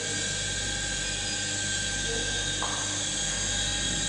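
A Black Perfect ZX60F glue binding machine runs steadily after start-up, a continuous mechanical drone and hum with high whine, loud and unbroken throughout.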